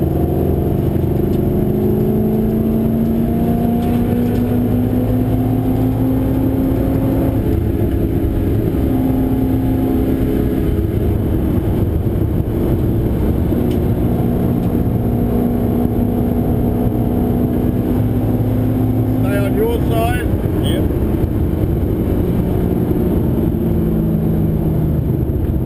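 Onboard, a V8 race car engine runs hard through a hot lap at Pukekohe track, a loud, continuous drone rising in pitch through the gears with short dips at shifts, and no voices over it.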